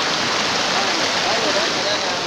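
Shypit waterfall in Pylypets roars with rushing water, a dense continuous broadband wash that stays loud and steady from start to finish.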